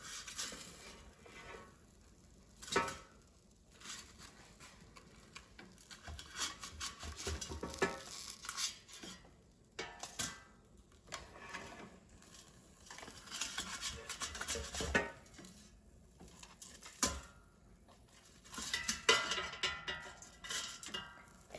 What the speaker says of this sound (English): let's take out the air fryer basket and carefully flip the breaded cutlets over so they cook more evenly